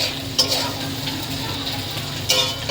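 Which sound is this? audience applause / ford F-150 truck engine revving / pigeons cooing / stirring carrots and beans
stirring carrots and beans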